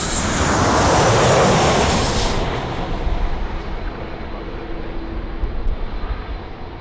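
A fixed-wing jet at Sydney Airport roars loudly close by, then its engine noise slowly fades into a steady distant rumble, with no voices.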